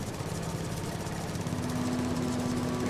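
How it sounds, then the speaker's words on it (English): A lawn mower runs steadily at close range while cutting a small patch of grass on a farm, its engine a constant droning hum with no change in pace or loudness throughout. "we'll finish mowing this little patch here because there's not much left"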